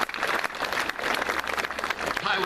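Audience applause at a graduation ceremony: a dense, steady crackle of many hands clapping, sustained evenly and fairly close for the full stretch, with no talking over it.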